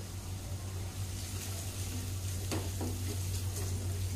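Chole masala with spices is stirred in hot oil in a pan, giving a steady close sizzle with occasional scrapes of the spoon over a low hum, with no talking.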